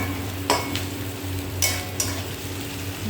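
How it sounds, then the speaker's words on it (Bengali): Onion frying in a pan, a continuous close sizzle broken by a few scraping strokes and clinks of the spatula as it is turned over, with no speech. "এই যে পেঁয়াজটাকে এরকমভাবে উল্টে পাল্টে ভেজে নিতে হবে।"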